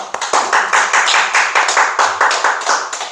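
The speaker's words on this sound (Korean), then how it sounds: "이 하나님과 권사님께 감사의 박수" A church congregation at a Sunday service claps together in a steady rhythmic beat, loud and close, with about a dozen even claps in quick succession.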